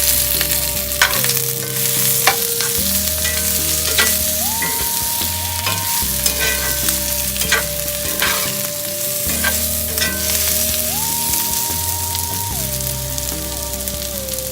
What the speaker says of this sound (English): we're gonna stir all the vegetables back in.